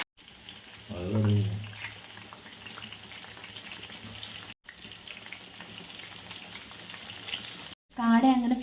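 Quail pieces frying in hot oil in a pan, Kerala style, make a steady crackling sizzle broken by louder spitting bursts near the start and end, with two brief dropouts and no talking.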